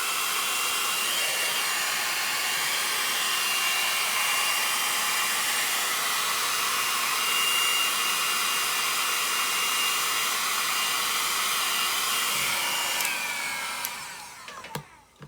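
A hair dryer blows steadily on freshly applied chalk paste on a tic-tac-toe board, a loud, continuous whoosh holding for about thirteen seconds before it clicks off and tapers away near the end.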